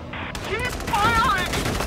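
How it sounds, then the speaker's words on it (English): Battle gunfire from the video game Valkyria Chronicles 4: a dense, continuous rattle of rifle and machine-gun shots fills the whole short moment, with game sound effects layered on top. "The enemy's returning fire!"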